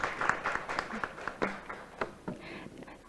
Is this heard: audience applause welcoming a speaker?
yes